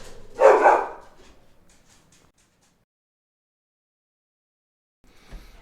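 A single loud dog bark up close, followed by near silence and a faint rustle at the end.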